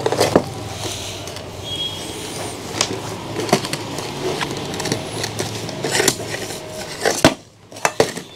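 Someone handles a portable foldable camping cookware set, producing scattered metallic clinks and knocks of nesting pots and pans at close range, with a sharper cluster of clatters near the end.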